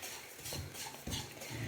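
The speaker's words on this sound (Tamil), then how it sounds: "ஒரு 5 நிமிஷம் நல்ல வாசனை வர வரைக்கும் வறுத்துட்டோம்" Semolina dry-roasting in a pan over low-medium flame for rava laddu, stirred steadily with a utensil, giving soft scraping and clinking strokes in a continuous, moderately quiet texture with no voices.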